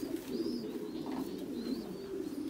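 Pigeons in a loft give a steady, close, low cooing that rolls on continuously, with a few faint higher chirps over it.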